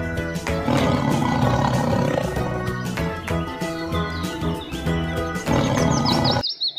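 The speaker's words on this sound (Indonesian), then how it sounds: "Yang warna orange ini harimau." A tiger roars loudly in repeated heavy bursts over a busy, dense background, with a few bird-like chirps near the end.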